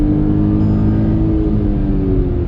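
A 2020 Hyundai Venue iMT engine heard from inside the cabin while shifting gears: a steady loud hum and whir whose pitch dips and shifts partway through.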